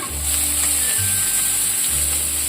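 Onions, chana dal, mustard seeds, cumin, turmeric and curry leaves sizzle in hot oil, a short loud steady hiss up close with a low background hum and no talk.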